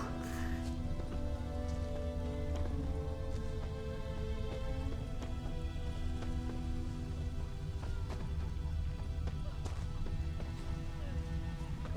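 Rain falling in The Witcher 3 game, a steady soft patter of drops on surfaces beneath a quiet layered ambient drone, faint and continuous with no speech.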